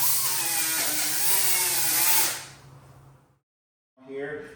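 A power tool grinds paint off a car body panel during bodywork prep, a loud steady whine with wavering pitch that winds down and stops, then starts up again briefly at the end, close by.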